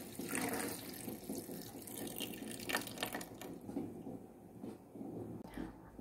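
Filtered water splashes and pours steadily into a blender, a continuous close gurgle that thins out toward the end.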